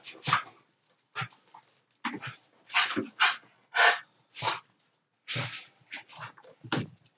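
A dog whimpers and breathes heavily in close, uneven bursts, the soft whining and panting sounds coming in short clusters separated by brief pauses.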